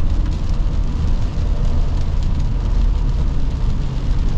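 Rain drums steadily on a 2024 Toyota Sequoia TRD Pro while it is being driven, a dense, even patter over a low road and engine rumble inside the cabin.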